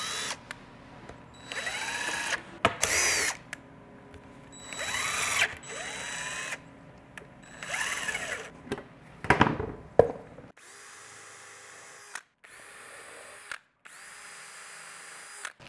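A power drill countersinks screw holes while a DIY composting toilet is built, whirring in several short, close bursts with pauses and clicks between them, then a few higher, steadier runs near the end.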